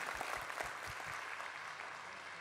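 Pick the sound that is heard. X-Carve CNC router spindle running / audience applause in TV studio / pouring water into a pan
audience applause in TV studio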